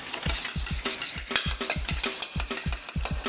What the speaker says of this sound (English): We beat the eggs